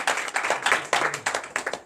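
A church congregation claps in praise of Jesus, a quick run of sharp, rhythmic handclaps in steady bursts, fairly close and with no talking.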